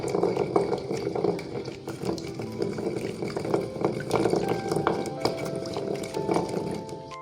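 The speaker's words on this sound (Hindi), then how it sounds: "तो हम इसको पानी डालकर अच्छे से इसको हिला लेते हैं।" Water is added to a pan holding leftover bits of a yogurt-based pumpkin raita mixture and stirred, giving a continuous wet sloshing and scraping with clicks of the utensil, close and fairly loud with no talking.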